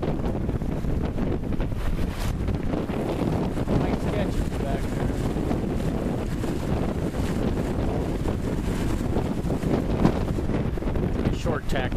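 Steady broadband wind roar and water rush from a sailboat moving fast at about 6 knots in roughly 15 knots of wind, continuous and loud throughout with no pauses.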